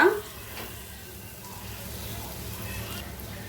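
Spice powders stirred and frying in a pan over a low flame for a squid masala, a soft steady sizzle with faint scraping throughout, loudest at the very start.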